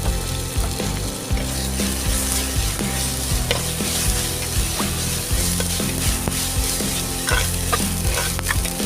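Ginger garlic paste and two green chillies sautéing for mutton biryani, a loud continuous sizzle with repeated spoon stirring and scraping against the pot throughout.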